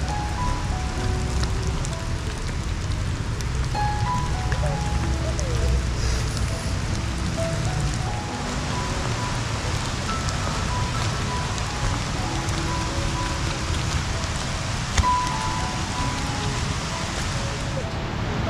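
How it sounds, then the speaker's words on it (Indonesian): Rain falls steadily at a campsite near Ciwidey, pattering on surfaces at close range, with faint voices and scattered sounds beneath the continuous downpour. "Hujan lagi."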